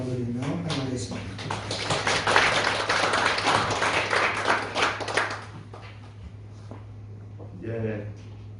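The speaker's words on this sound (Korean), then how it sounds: "우리 박수로 하나님께 영광을 드리며 환영하겠습니다" Congregation applause welcoming the pastor at a Korean church ordination service, a dense burst of clapping lasting about five seconds then fading, with a steady low hum beneath and brief speech at the start and end.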